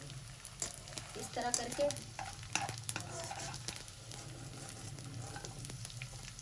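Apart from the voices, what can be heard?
frying edible gum (gond) in ghee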